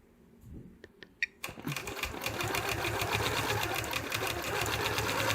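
Domestic sewing machine doing free-motion ruler quilting: a few soft clicks and taps, then the needle starts up into a fast, steady, close mechanical chatter that holds to the end.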